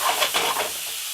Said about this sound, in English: We're going to stir that in there for a few seconds.